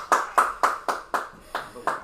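A small crowd applauds at a premier men's one-day cricket match in Auckland, eight crisp, evenly spaced claps with nothing else between them.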